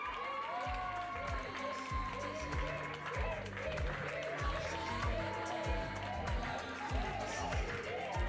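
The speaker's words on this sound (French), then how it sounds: "Je vous demanderai de les applaudir bien fort." At an endurance riding club prize ceremony, a crowd claps and cheers faintly under talk and a beat-driven music track, the applause sitting low in a busy mix.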